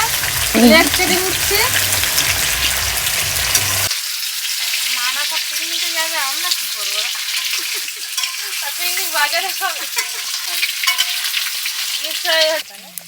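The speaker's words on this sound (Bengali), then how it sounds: "রান্নাটা একদম পুরো খাঁটি সর্ষের তেলে হবে খুব ঝাঁচ উঠছে আলু ভেজে নেব" Potatoes fry in mustard oil with a steady, loud sizzle and crackle throughout; the broadband hiss drops sharply partway through, and a voice is heard talking over the frying.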